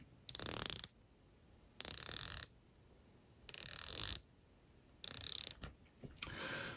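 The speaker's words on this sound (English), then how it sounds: "The bezel is 120 clicks. I'll let you have a listen." A 120-click watch bezel on a Zenith Defy Revival homage is turned in several short bursts, each a rapid run of fine ratcheting clicks, with quiet pauses between turns; close and crisp.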